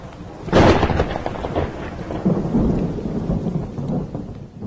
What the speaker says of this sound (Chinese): 最后一种也是大家最常听到的声音，就是雷声。